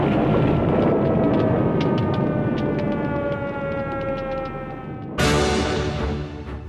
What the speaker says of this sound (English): we heard the air raid sirens